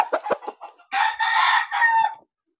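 A Red Kelso gamecock rooster crows once up close and loud, with a few short clucks first and then a long drawn-out crow that ends sharply into silence.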